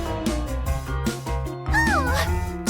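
A cartoon kitty gives a short meow over a busy bed of background music, the call rising and bending briefly near the end of a little under three seconds.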